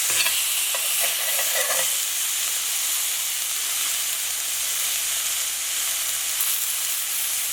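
St. Louis-style steaks sizzle and hiss steadily in a hot frying pan just after being flipped, a constant close, bright crackle with a few sharper pops near the start and no talking.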